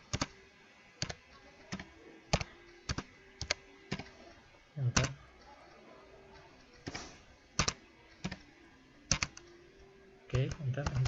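Keys tapped on a computer keyboard during data entry, with sharp isolated presses at a steady pace and occasional louder enter strokes, while a voice talks quietly underneath.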